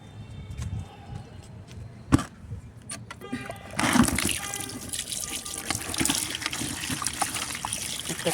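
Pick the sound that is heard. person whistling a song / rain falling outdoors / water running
water running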